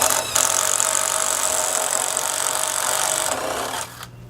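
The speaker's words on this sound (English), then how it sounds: "that unibit makes short work of drilling those holes like that in the sheet metal parts" A power drill whines steadily as a step bit cuts through sheet metal, loud and close, grinding continuously before stopping abruptly near the end.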